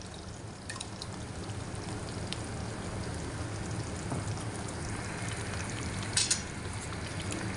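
Tomatoes frying with yogurt for chicken biryani, a soft, even sizzle with light crackle and one brief clatter near the end.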